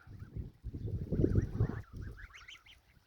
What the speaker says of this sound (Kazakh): Құстың ғаламаты осы қаз екен ғой.